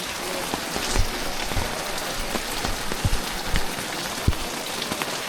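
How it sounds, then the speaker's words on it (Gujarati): Heavy rain pours at Pavagadh Mahakali Temple, a dense steady hiss with sharp individual drops spattering close by on nearby surfaces throughout. "અત્યારે બહુ વરસાદ છે પાવાગઢની અંદર."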